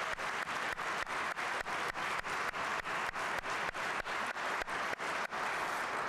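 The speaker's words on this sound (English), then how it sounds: "let's give our students one last round of applause" A school awards-ceremony audience gives the students one last round of applause, a steady wash of clapping with faint rhythmic pulses running the whole stretch at moderate distance, no voices over it.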